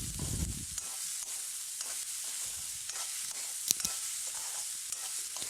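Sliced onions sauté in a kadai for a Kathiyawadi dahi tikhari, giving a steady close sizzle broken by regular scraping stirs and one sharp clink of the spoon against the pan. Nobody speaks.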